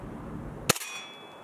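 A single sharp, loud crack from an airsoft gun fitted with a purple Poseidon ice pick, firing a 0.20 g BB, followed by a brief metallic ring and quiet afterward.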